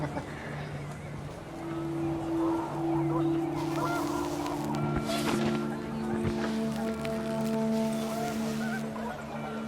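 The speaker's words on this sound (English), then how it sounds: "The wind picked up and panicked geese appeared and quickly went." Panicked geese honk in the video game What Remains of Edith Finch, a cluster of moderately loud honks over a windy background, with a narrator speaking partly over them.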